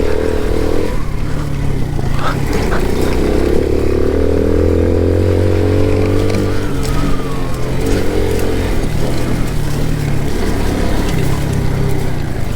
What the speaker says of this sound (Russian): О, рев мотора.